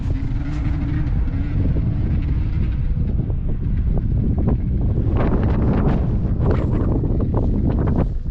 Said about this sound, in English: Really windy day here today.